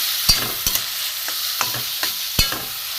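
Grated carrot frying in ghee, a steady close sizzle broken by several sharp spoon scrapes and stirring clinks against the pan, with no talking.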